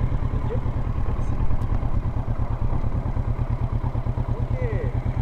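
A motorcycle engine putters steadily at low revs during A2 licence training exercises, close and continuous with a regular thumping pulse, with faint occasional clatter.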